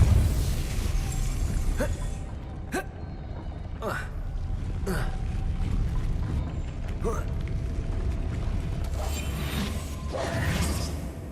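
Depulso force-push spell effects in the Hogwarts Legacy game: a series of sharp, spaced whooshing bursts, roughly six across the stretch, loud over a steady rumbling game background.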